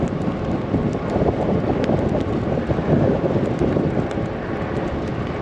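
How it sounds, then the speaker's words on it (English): Strong wind buffeting a microphone while riding outdoors, a continuous loud roaring rumble with constant gusty fluctuations and no voices. "It's fucking windy down."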